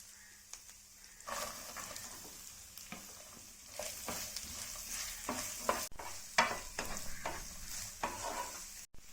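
Finely chopped medium onion sautés in a pan with ginger-garlic paste for tomato rice, a soft steady sizzle broken by repeated scraping strokes of a spoon stirring, close and fairly quiet.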